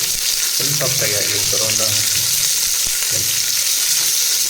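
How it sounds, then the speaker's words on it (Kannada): Onions fry in hot oil in a pan with a loud, continuous sizzle, while low murmuring and a few light knocks sit underneath throughout. "ಆನಿಯನ್ ಸ್ವಲ್ಪ ಫ್ರೈ ಆಗಲಿ"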